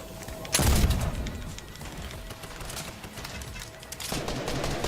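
Bursts of gunfire in a video game: a sharp volley near the start, a steady rattle of shots behind it, then another loud burst near the end, dense and close.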